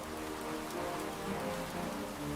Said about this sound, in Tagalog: Ang ganda ng ulan.